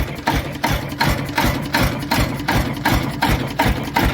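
A Lister CS diesel engine runs after years sitting idle, a steady close thumping rhythm of roughly two to three beats per second with loose mechanical clatter and rattle over a low rumble, no talking.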